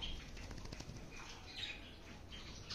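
Wings of a small white female finch flap as she is released, a soft fluttering rustle lasting a few seconds, close and fairly quiet.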